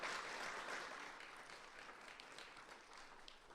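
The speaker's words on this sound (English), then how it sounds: "Let's give all of our panelists a big round of applause." Audience applause for the panelists at a history symposium, a soft and fairly distant wash of clapping that stays steady and fades slightly toward the end.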